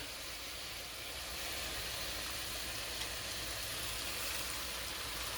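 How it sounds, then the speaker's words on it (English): A continuous hissing sizzle of garlic shrimp in a pan after a splash of pasta water is added, steady and fairly close, with no voices over it. "That's sizzling."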